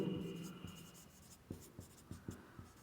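Writing during a math lesson on a quadrilateral: a series of short scratchy strokes, about five distinct taps and scrapes in the second half, close and soft over faint background noise.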